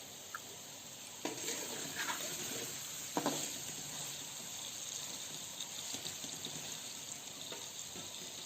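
Cauliflower and mutton masala for gobi gosht sizzles quietly in a pan, with a steady soft frying hiss and a few scraping stirs.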